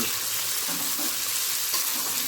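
Chopped onions fry in a pan with a dense, continuous close sizzle that holds steady throughout, with no voices.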